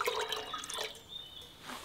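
Nettle manure liquid splashes as it is poured into a watering can, a close, wet gurgling pour that tapers off near the end, with no talking.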